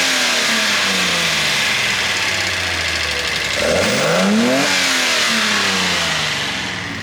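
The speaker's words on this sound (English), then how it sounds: "hopefully you got a bit of the sound of that exhaust. You can definitely hear the carbs sucking the air." A warm Datsun 240Z idles a little low on its carburetors, with electric fuel pump, the exhaust burbling steadily up close, then a brief rev swells and falls back to the rumbling idle, carbs audibly sucking air.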